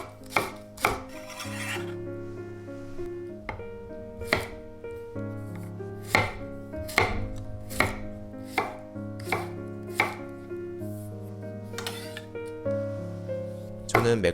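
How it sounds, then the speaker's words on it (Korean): Knife chopping scallion whites and garlic cloves on a cutting board for soy-garlic fried chicken, a series of sharp, close, irregular thuds with short pauses between strokes. "파의 흰 부분과 마늘 3개를 적당한 크기로 잘라주세요."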